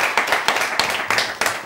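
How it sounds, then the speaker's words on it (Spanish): Studio audience on a TV variety show clapping in a loose, uneven burst of handclaps, fairly close and moderately loud, with sharp individual claps standing out from the patter. "Un aplauso, sí"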